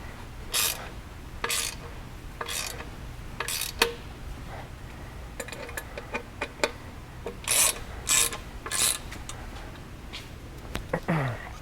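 Ratchet wrench doing the initial tightening of bolts on a Ricochet skid plate for a Wolverine X2 X4 side-by-side: bursts of rapid clicking pawl ticks in short runs, close and clear over a steady low background hum, no talk.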